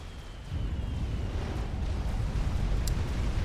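Explosions from Tech 3 artillery in the real-time strategy game Supreme Commander: Forged Alliance, heard as a dense, continuous low rumble of blasts that swells after a quiet start and stays heavy to the end, with no talk.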